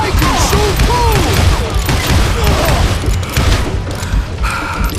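Dynamite blasts and gunfire in the Western shooter game Call of Juarez: Gunslinger, a dense, continuous barrage of booms and shots with a voice shouting over part of it.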